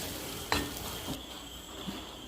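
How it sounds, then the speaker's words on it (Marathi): Semolina for lapshi being roasted and stirred in ghee over a medium flame, a soft steady sizzle with a sharp scrape of the spoon near the start and a few quieter stirring knocks. "लापसीचा रवा बघा मीडियम फ्लेमवरच तुम्हाला भाजायचा आहे."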